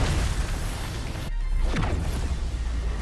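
A full-power punch in Tekken 8 sets off a huge explosion in outer space, with a meteor falling. The result is a loud, dense roaring blast with a sudden sharp break and a falling whoosh.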